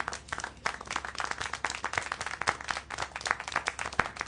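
Applause and scattered clapping from a crowd in the video game Syberia: The World Before, a quiet, irregular patter of hand claps continuing for several seconds.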